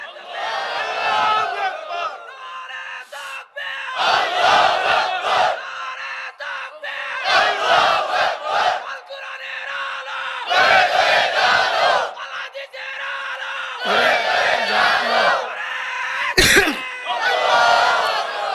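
Crowd of young men at a Bangla waz gathering shouts back in loud unison to the takbir call, several full-throated roaring bursts separated by short pauses, with a preacher's voice between them.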